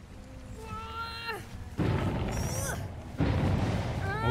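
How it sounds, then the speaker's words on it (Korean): Bursts of booming fireworks crackle and pop in Dead by Daylight, with whistling rising tones before the explosions, loud and close, under some background voices. "여기 빵빵 터져. 불꽃놀이야."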